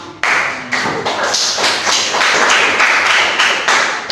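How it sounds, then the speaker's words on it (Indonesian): Classroom applause after a student group's presentation on evolution, a steady patter of many hands clapping close by for about four seconds with no talking over it. "Tepuk tangan."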